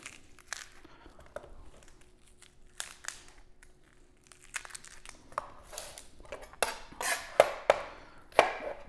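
Onion skin being peeled and torn by hand in a kitchen while making homemade salsa, with dry crinkling, crackling and scattered crisp snaps that grow louder toward the end, no talking.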